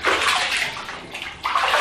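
Running water rinses a dog in a bathtub, a steady rushing splash that dips briefly and then surges again near the end, with no talking.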